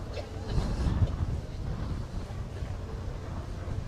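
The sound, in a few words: wind blowing across outdoor car show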